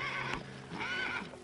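A lame horse neighs in a short, close whinny with a wavering pitch and faint background noise around it.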